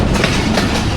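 The Jaffar Express rolls through Golra Sharif Junction railway station without stopping, a steady, loud, close rumble of wheels and carriages filling the whole second with no talk.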